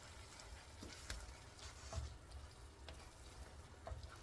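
Corn fries quietly in a pan, a soft steady sizzle broken by occasional scraping and ticking stirs, all faint and close with no talking.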